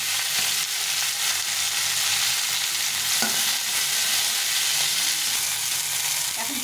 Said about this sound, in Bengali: দিয়ে ধনেপাতাটা আর এই কাঁচা লঙ্কা, এই 4টে কাঁচা লঙ্কা নিয়েছি, আর কটা রসুন নিয়েছি, ভেজে নেব।